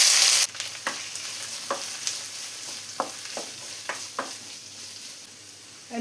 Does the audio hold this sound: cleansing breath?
no